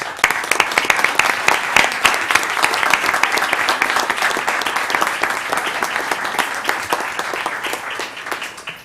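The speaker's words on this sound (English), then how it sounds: "So we want to give you all a round of applause right now," An audience at a city commission meeting claps in sustained applause, a loud, dense, even patter of many hands that fades slightly toward the end.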